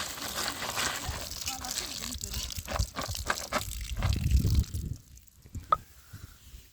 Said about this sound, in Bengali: এখন আমরা আদা রসুনটা ধুয়ে নিব।